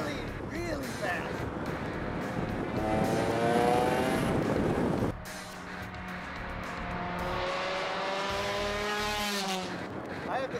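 A supercharged, lightweight Ariel Atom driven fast gives a loud, continuous engine roar that rises and falls in pitch with the gear changes. It stays close and steady throughout, with no speech.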